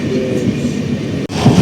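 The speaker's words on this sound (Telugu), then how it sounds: "వివేక్ ఎక్స్ప్రెస్, కన్యాకుమారి దిబ్గూడ్." Vivek Express, the Kanyakumari–Dibrugarh train, rumbles steadily past at close range near Coimbatore, a loud continuous roar of wagons with a brief dip near the end.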